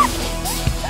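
Sled dogs at a camp on a Royal Caribbean cruise excursion, a brief burst of excited yips and barks close by, loud over outdoor noise.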